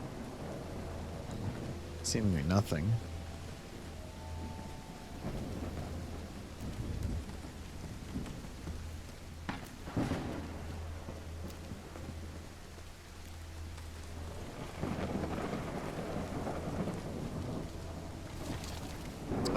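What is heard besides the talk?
heavy rain and thunder in video game Call of the Elder Gods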